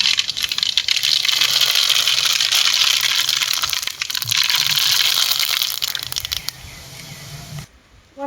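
Mustard seeds hit hot oil in a pan while a dried anchovy dish is being cooked. They give a dense, close, continuous crackling and popping sizzle that runs throughout and drops away at the very end.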